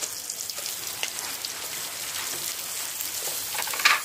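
Chopped onions with a pinch of salt fry in a pan with a constant dense sizzle, close and even, with a small sharp spatter near the end.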